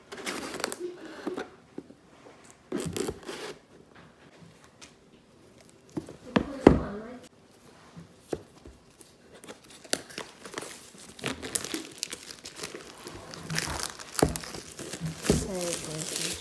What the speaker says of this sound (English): I need to use a knife to rip it apart